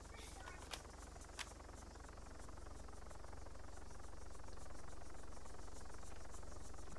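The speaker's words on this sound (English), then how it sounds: "Chopper's not noticed us yet." Helicopter rotor drone in the ARMA military video game, a steady faint wash that swells slightly over the seconds, with a couple of sharp distant cracks early on and no speech.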